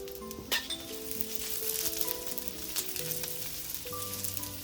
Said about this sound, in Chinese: 当油适度加热时，加入切好的蒜片，只需要翻炒至蒜香味散发出来就可以了